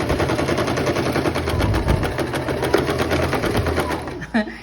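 A sewing machine races through a parasol dress seam with loud, rapid, even needle clatter that runs continuously and close for over four seconds, ending in a brief knock.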